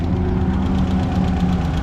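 A race car engine with a fault that keeps it from revving above 4,000 RPM, heard close as a steady low, rough mechanical drone with a slight knocking pulse, no clear rise in pitch.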